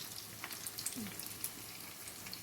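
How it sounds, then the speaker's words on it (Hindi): Potato shami kebabs shallow frying in oil, a soft, steady sizzle with faint crackles, quiet and continuous with no talk. "इनको तल के और ये सिर्फ शैलो फ्राई करना है, इसको डीप फ्राई नहीं करना।"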